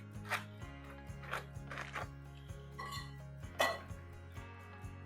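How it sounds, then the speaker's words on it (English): A knife scrapes softened cream cheese off into a bowl: a few faint, brief scraping strokes with light clinks over a low steady hum. "I'm going to use that same knife and just scrape it right into that bowl"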